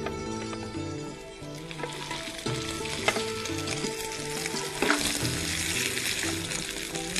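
Fara (dumplings) stir-frying in a hot tempering of oil with curry leaves and dried red chillies, a steady close sizzle with spoon stirring and scraping throughout.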